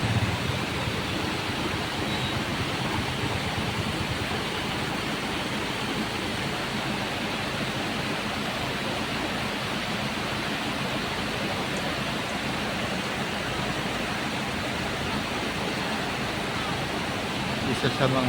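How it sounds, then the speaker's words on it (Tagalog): A small mountain-fed waterfall at a scenic spot in Pagudpud, Ilocos Norte, pouring as a steady, dense rush of water that stays even and close for the whole stretch, with faint talk underneath. "Meron siyang mini falls."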